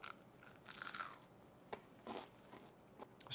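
A fried pickle bitten and crunched close to the mic, with a few crisp, crackly crunches spread over a few seconds at a soft level, no talking.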